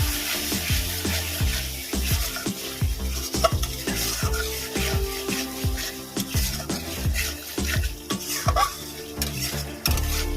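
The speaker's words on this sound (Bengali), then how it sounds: "এর মধ্যে দেব হলুদ দেব স্বাদ মতো নুন ভালো করে মশলাটা কষিয়ে নেব" Spices with turmeric and salt being stir-fried in a pan for a Dhaka-style cauliflower and potato curry, with repeated scraping strokes and a soft sizzle over a steady background of music.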